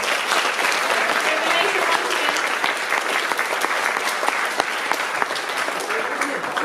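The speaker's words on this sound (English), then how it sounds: "big applause" Strong audience applause at the VIVA film festival 2018 awards ceremony, a continuous wash of clapping with sharp individual claps standing out, holding steady throughout.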